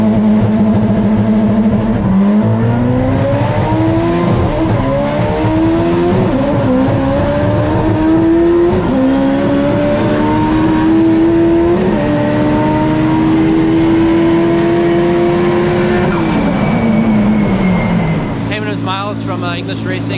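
A 1200 hp 1994 Acura Integra GS-R drag car running a half mile at over 200 mph, its engine screaming loud and steady through a series of upshifts before easing off near the end, with voices over it.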